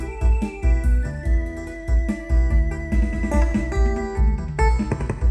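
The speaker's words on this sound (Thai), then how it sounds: "ทุกคนได้ยินเนาะเสียงกีตาร์เนาะ" SV800 keyboard playing a guitar-like patch, plucked notes and chords in a steady rhythm over a heavy low bass beat, loud and close.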